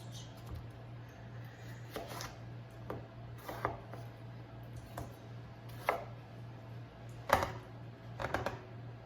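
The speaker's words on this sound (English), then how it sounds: "So I'll cut these up the same size I did before" A knife chopping tomatoes on a cutting board for homemade tomato sauce, sparse soft taps at irregular intervals over a steady low hum, no voices.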